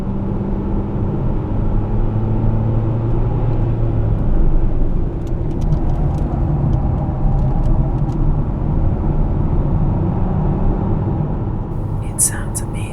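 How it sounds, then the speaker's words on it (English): A diesel engine in a car on the Ascari race track rumbles steadily and loudly from inside the cabin for the whole stretch, with a faint whisper or two barely audible beneath it. "the fantastic sounds coming out of that diesel engine"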